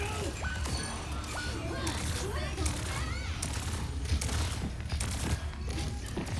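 Rapid bursts of sci-fi weapon fire from Juno's pulsar torpedoes in Overwatch crackle through a busy mix of gunfire, impacts and ability effects, with a voice talking over the battle.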